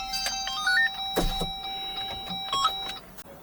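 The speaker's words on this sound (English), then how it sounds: "I'll put the windows down a little more." A car's power windows motor whirring as the windows lower inside a hot parked car, a steady electric drone with a couple of beeping electronic tones and a sharp thump partway through.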